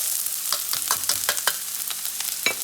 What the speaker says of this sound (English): I'm gonna let them fry a little bit on very low heat.